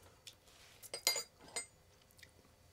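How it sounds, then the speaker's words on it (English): A spoon stirring cola syrup in a glass, giving a few light clinks and scrapes clustered in the middle, faint and close, with no voice. "So we'll stir that in."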